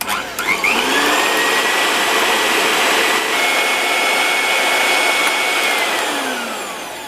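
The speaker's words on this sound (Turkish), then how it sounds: "güzelce kar kıvamına gelene kadar yumurta beyazlarımı çırpacağım" Electric mixer whisking egg whites with a pinch of salt toward stiff peaks, a steady loud whirring drone that holds its pitch for several seconds, then slowly winds down near the end.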